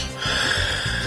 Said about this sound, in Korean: 탱크 소리 못지않은 남편의 코 고는 소리